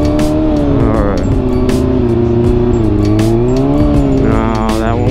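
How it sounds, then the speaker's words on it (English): Motorcycle engine under choppy, on-off throttle during rolling stoppie practice, a loud continuous near drone whose pitch rises and falls repeatedly as the rider blips and chops the throttle. "I'm being real choppy on the throttle right now."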